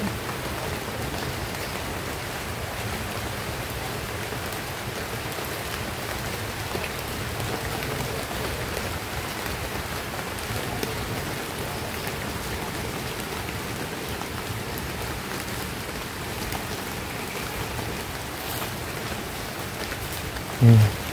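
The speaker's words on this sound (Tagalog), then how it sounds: "kaya yan, bumuhos ng ulan" Heavy rain pours down steadily during a storm, a dense, continuous roar of drops on surfaces that stays near and loud throughout, with a brief knock at the very end.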